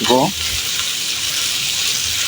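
Water goes into a hot frying pan of goat liver and potato curry, making a brief rushing gush that settles into a dense, close hiss, with a short voice at the very start.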